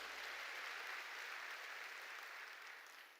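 Steady applause from a large church congregation during a sermon fills the whole stretch, dense and even, then slowly tapers off at the end.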